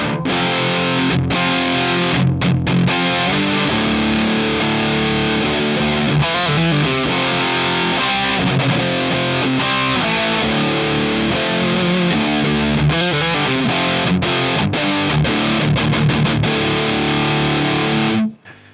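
Heavily overdriven electric guitar plays chords and riffs through a Sunless Effects Dark Ages drive pedal for most of the stretch, thick and saturated, cutting off abruptly at the end.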